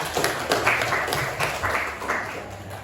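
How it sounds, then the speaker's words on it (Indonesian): A vocational high school classroom claps for a student. The applause is moderate and somewhat uneven, with bursts of individual claps over a low murmur of the room. "Tepuk tangan untuk Muslipa."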